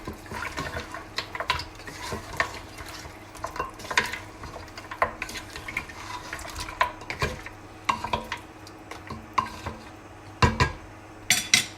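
A spoon scrapes and clatters in a pot as yogurt is stirred into Kashmiri rogan josh gravy, irregular close stirring knocks over a soft sizzle, with no voices.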